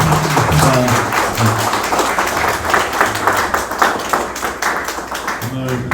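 An audience at a book launch event claps steadily, a fairly even patter of applause with talk and a few voices running underneath.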